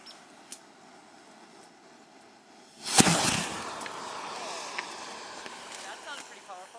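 A smoke bomb catches after being lit with a propane torch, giving a sudden loud burst of rushing hiss that keeps roaring steadily for several seconds after a quieter stretch of background noise.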